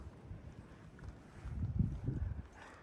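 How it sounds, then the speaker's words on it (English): Wind gusts buffet the microphone on an open cliff overlook at Little Stoneman Cliffs in Shenandoah National Park, low rumbling bursts that swell and fade, fairly faint. "Just a bit windy, but beautiful."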